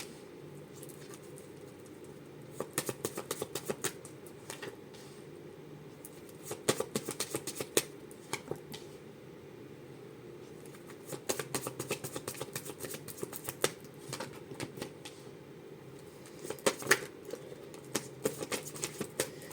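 A deck of playing cards handled close up, sticking together as they are pulled apart, giving bursts of soft crisp riffling and flicking over a quiet room hum, intermittent and faint.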